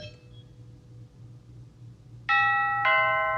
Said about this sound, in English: Now I'm going to send one of my kids out to go ring the doorbell.